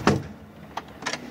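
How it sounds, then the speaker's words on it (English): A door shuts with a solid thump up front, then a short mechanical rattle and a brief whooshing scrape follow within a second, moderately loud in a quiet room with no one speaking. "Hold the door."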